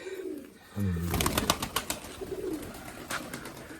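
Soft cooing of crested pigeons and squabs close by, with rustling, fluttering and scattered clicks around the birds.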